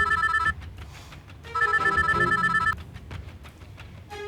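A telephone rings in two bursts of an electronic trilling ring separated by a short gap, with a brief restart at the end, loud and close in a quiet home.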